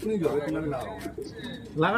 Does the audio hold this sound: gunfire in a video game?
no